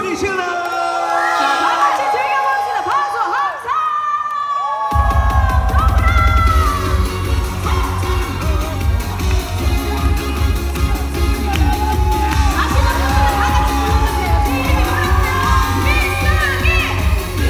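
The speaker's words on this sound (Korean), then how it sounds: "박수 함께 소리 질러!" A crowd at an outdoor beer festival concert cheers, whoops and shouts along while loud music with a heavy beat plays, the crowd noise dense and continuous.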